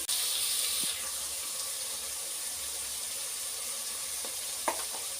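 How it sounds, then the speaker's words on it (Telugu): Green chillies and tomatoes hit hot oil for a crab curry, setting off a loud, steady sizzle that hisses close up throughout, with a couple of faint clicks near the end. "ఆయిల్లో అయితే పచ్చిమిరకాయలు టమాటాలు ఉద్దిపల్లి అయితే వేస్తానండి"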